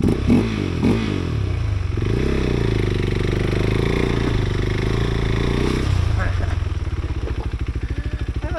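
A KTM 390 Adventure motorcycle with new suspension and power mods idles loudly up close, then its engine note rises steadily as the bike pulls away on a trail, settling into a sustained drone with some clatter.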